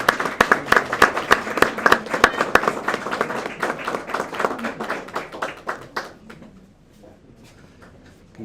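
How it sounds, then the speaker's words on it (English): Applause at a county board of education meeting, a room of hands clapping briskly and unevenly for several seconds before thinning out to a few scattered claps near the end. "Let's give them another round of applause."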